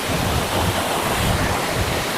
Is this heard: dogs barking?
no